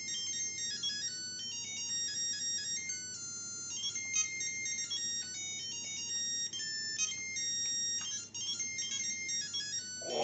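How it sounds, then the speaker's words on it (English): Sonic video game music plays from a small handheld game, thin bleepy chiptune melodies running continuously, fairly faint with no talk over it. "Is that Sonic music?"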